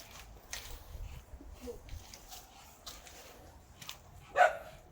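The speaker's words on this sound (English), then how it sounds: "These are the noisy bloody dogs back again." Dogs bark in the distance with faint, scattered yips and woofs, then one louder bark near the end, all over quiet outdoor background noise beside a van.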